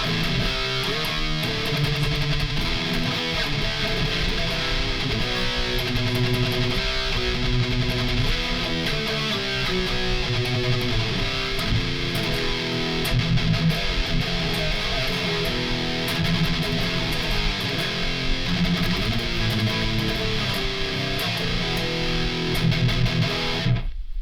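An electric guitar through an EVH 5150 EL34 amp's blue channel with a Tube Screamer-style overdrive plays a continuous metal riff of chugging, distorted chords and notes, loud and sustained, with no talking.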